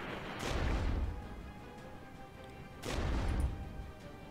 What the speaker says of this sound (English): Drop some artillery on them.